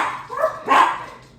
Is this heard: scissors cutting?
no